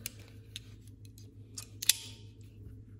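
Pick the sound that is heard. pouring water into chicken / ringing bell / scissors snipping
scissors snipping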